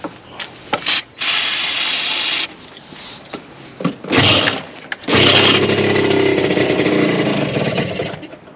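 A two-stroke Suzuki motorcycle that has sat for two years, kick-started with no fuel line connected, catches and runs in loud bursts, sputtering at first and then settling into a sustained raspy idle.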